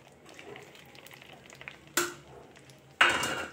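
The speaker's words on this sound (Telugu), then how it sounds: "నూనె పెట్టుకుని పోపుకి మనం 2 స్పూన్లు, అంటే కేజీకి 2 స్పూన్లు ఆవాలు, కొంచెం ఎండుమిరపకాయలు" Mustard seeds and dried red chillies are tempered in hot oil. A quiet background sizzle is broken by two sudden, loud bursts of spitting and crackling as ingredients hit the oil, each fading gradually.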